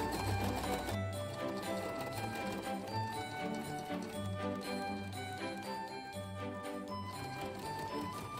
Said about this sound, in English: I'm gonna go ahead and sew these all on my sewing machine